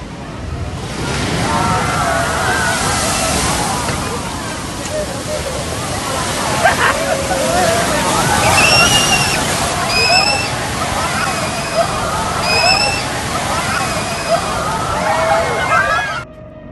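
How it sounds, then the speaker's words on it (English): The Qiantang River tidal bore at the Meinv Dam in Hangzhou, Zhejiang, surges past as a loud, continuous rush and slosh of churning water, with crowd voices and shrill whistles rising over it. "The Qiantang River tide is one of the world's largest tidal events"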